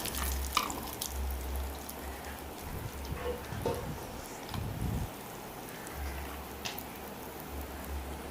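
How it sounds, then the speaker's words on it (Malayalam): River fish pieces frying in hot oil give a soft, steady sizzle with faint crackles and occasional pan or utensil knocks, fairly quiet throughout with no voices. "നമ്മുടെ ഫ്രൈയിങ് പ്രോസസ്സ് ഇവിടെ ഓൾമോസ്റ്റ് കഴിഞ്ഞിട്ടുണ്ട്"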